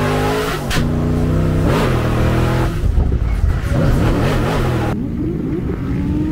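A race car launches off the start line at the Croix-en-Ternois circuit. Its engine revs loud and close in repeated rising, wailing sweeps as it shifts through the gears and gains speed.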